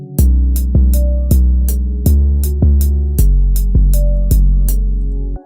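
A deep, booming 808 bass line plays a bouncing pattern of sustained notes that jump up and down in pitch, with crisp ticking percussion on top.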